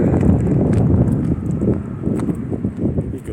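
Strong wind gusting past a highway rest area, gusts above 40 mph, makes a loud, continuous roaring buffet that surges and dips throughout without a break.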